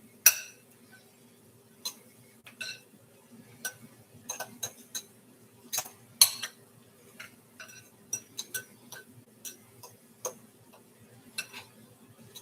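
Diced tomatoes and peppers stirred in a container, producing sparse, sharp ticking clicks of a utensil against the sides at an uneven rhythm, close but quiet with low background hum.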